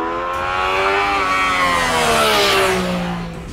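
A Yamaha motorcycle engine revs up loud and close, its harmonic whine climbing steadily before sliding back down and tapering off, with no talking.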